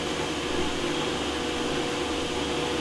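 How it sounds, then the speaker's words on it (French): Blender whirring steadily as it purees a ratatouille sauce, a continuous dense motor drone holding at an even loudness throughout, with no talking over it. "Et on mixe."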